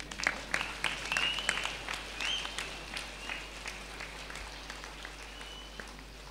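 Audience clapping at a Telugu meditation talk, a moderate patter of many hands that thins out over several seconds, with a faint voice briefly audible beneath it.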